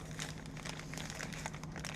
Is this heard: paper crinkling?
yes